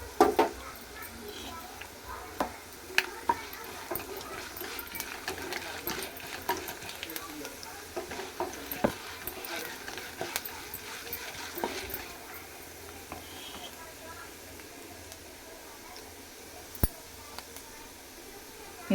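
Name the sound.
spices (urad dal, coriander, cumin) frying in a pan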